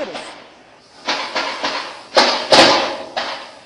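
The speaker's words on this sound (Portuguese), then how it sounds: "Ouça só os tiros." Gunshots from a police shootout in a Rio de Janeiro community, several sharp distant cracks spaced irregularly with echo, heard over a murmur of background noise.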